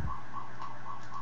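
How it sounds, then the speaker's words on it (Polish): Alarms ringing in the Happy Wheels video game, a repeating electronic tone pulsing at a regular, quick rhythm, steady and moderately loud, with no voices. "alarmy mi tam gdzieś dzwonią"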